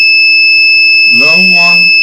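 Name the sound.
buzzer driven by an ESP32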